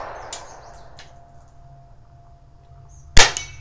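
A Winchester Model 1890 rifle fires a .22 Short round outdoors: one sharp, snappy report near the end, following a faint earlier click and some light bird chirps.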